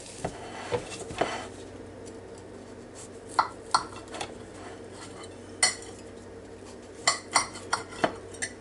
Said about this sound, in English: Cut your biscuit.